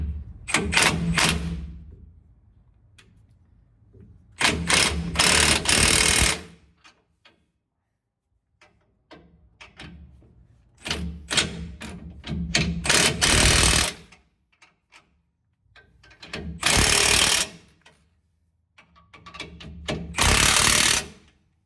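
A power tool tightens U-bolts on a 2005 Chevrolet Silverado Z71 with a 5.3 Vortec, loud and close, firing in about six separate rattling bursts with quiet gaps and small clanks between them.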